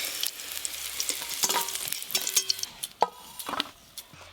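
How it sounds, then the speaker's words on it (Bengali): Bitter gourd pieces frying in oil in a village-style kitchen, a steady crackling sizzle with stirring scrapes and a few sharp utensil knocks, close and moderately loud with no talking. "এই যে করলাগুলো বেশ ভালো করে ভাজা হয়ে গেল"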